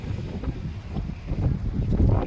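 Steady gusting wind beside a lake rumbles against the microphone outdoors, a continuous low buffeting noise with no talking.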